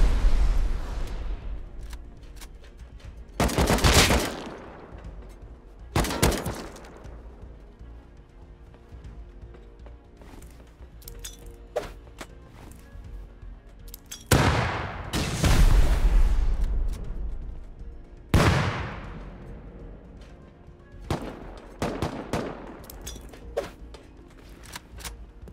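Gunfire in the video game Rust during a raid defense, heard as several sharp, loud bursts spaced apart over a low ambient background with little talk.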